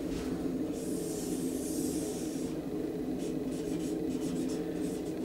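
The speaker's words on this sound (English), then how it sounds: "I'm drawing it in a massive red circle." A marker drawing a large circle on a board, a continuous rubbing squeak over a steady low hum of room noise, with no talk.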